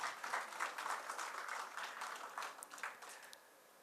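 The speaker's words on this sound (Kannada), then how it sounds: "ಚಪ್ಪಾಳೆ ಹೊಡಿಬೋದು ದಯವಿಟ್ಟು" An audience at a book launch claps in a brisk, moderately loud round of applause that thins out and stops near the end.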